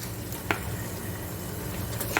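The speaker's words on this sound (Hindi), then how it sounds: "और इसको जो है वो अब हम थोड़ा सा फ्राई करेंगे गोश्त को" About a kilo of mutton fries with onions in a pot for Pakistani-style aloo gosht salan, giving a dense low sizzle with a couple of soft scrapes of stirring, close and steady without speech.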